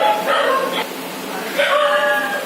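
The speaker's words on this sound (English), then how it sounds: "Dogs are crowding this balcony, which we usually do not like because it causes difficulties in operation." Dogs crowd a balcony at an animal shelter, giving a few yips and whimpering barks in two short bursts over a steady noisy background.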